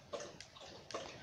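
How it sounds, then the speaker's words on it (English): A pet dog laps water from a bowl at close range, a few quick wet splashy laps in short bursts separated by brief pauses. "that is my dog drinking water"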